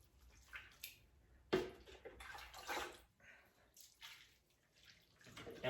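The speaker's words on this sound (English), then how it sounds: "Now we're just gonna water the heck out of this tree." Water is poured onto the soil around a newly planted peach tree, making soft, intermittent splashing and gushing bursts close by, with quiet gaps between pours.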